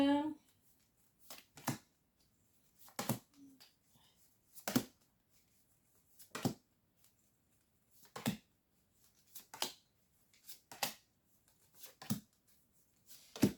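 Deck of cards shuffled over and over, sharp riffling bursts at a roughly regular rhythm with quiet gaps between them, close and clear, with speech between the shuffles.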